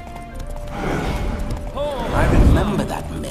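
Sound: horse Roach spooked and neighing, from video game The Witcher 3

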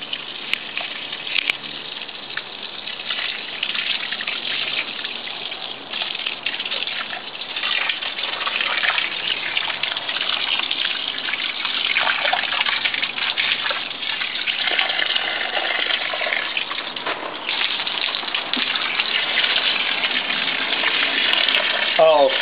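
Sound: water spraying from a hose onto lemon tree foliage

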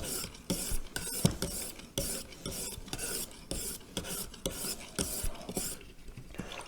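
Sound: grafting knife blade being sharpened on a stone

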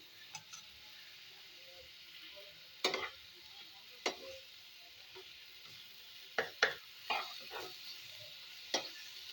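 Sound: sautéing cashew paste on low flame

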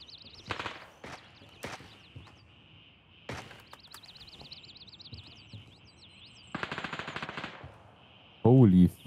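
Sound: gunfire in the video game Gray Zone Warfare

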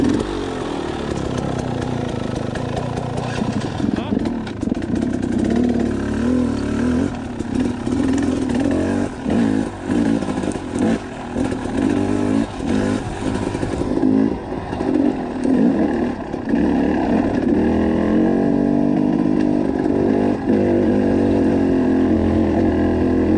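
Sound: motorcycle engine downshifting and revving

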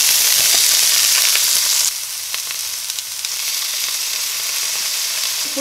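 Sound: vegetables frying in hot oil with garlic and ginger

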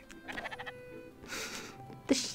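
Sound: sheep bleating in the video game Spiritfarer

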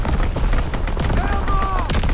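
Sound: strafing run gunfire in Call of Duty: WWII video game

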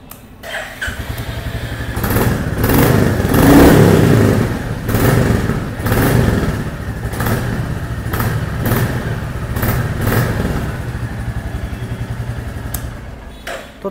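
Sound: Royal Enfield Bullet 350 motorcycle engine starting, exhaust note

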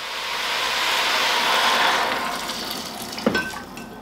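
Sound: water added to a cooking pot

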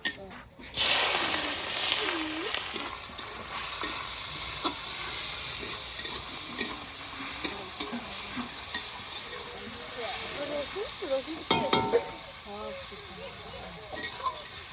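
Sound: frying spice tempering and chopped onion for meat curry

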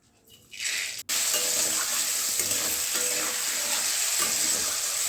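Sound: cabbage being stir-fried in hot oil

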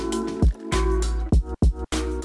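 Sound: water filling a cup from a dispenser in a video game

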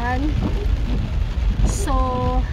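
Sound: heavy rain

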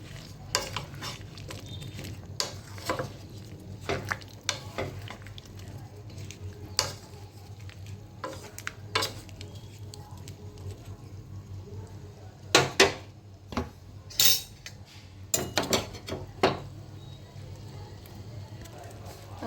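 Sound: vegetables, capsicum and pumpkin, added to cooking pan and stirred

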